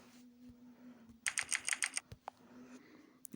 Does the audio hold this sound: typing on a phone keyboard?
yes